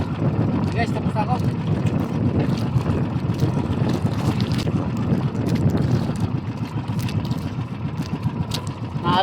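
Rough sea and strong wind buffeting the microphone aboard a boat, a continuous loud roar of waves and gusts with a voice speaking faintly underneath.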